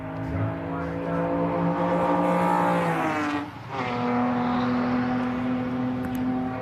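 Racing cars from a Mini Miglia and Libre championship race roar past on a circuit, a loud sustained engine drone with a brief dip as one car passes close, then a steady buzzing engine note again.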